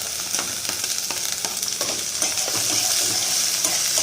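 Carrots, capsicum and peas fry and sizzle in a pan while being stirred, a steady close hiss broken by regular scraping strokes, with no talk.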